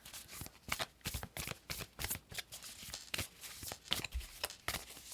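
A deck of tarot cards shuffled by hand in a quiet room, a steady run of crisp riffling bursts and soft slaps close to the microphone, with no talking.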